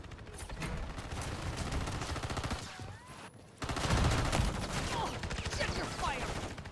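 Rapid bursts of automatic gunfire fill a Warzone multiplayer match, near and loud, with a brief lull before the shooting picks up again amid in-game effects.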